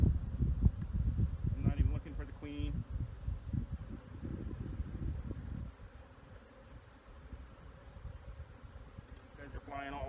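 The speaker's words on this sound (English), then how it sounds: "These are good looking bees. They're very active." Honeybees buzz in a dense, close hum around an open hive during a nuc installation, loudest at first and then easing, while a person speaks briefly.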